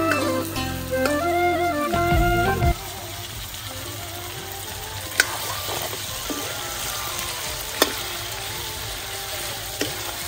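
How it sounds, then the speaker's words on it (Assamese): Duck meat cooking in a wok gives a steady sizzle and frying hiss throughout, with a few sharp clinks from a utensil against the pan and a low rumbling hum in the first seconds. "হাঁহৰ মাংস বনি আছে দেই এইফালে কেৰাহীত মাংসখিনি"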